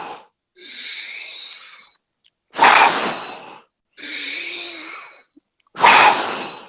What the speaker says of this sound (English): Inhale, exhale hard.